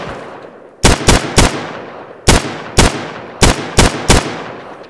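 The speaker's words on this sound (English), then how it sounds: "I'm just laying down fire" Loud close gunfire in the shooter game Insurgency: sharp single shots fired in quick bursts of two or three, with short pauses between bursts and no talking.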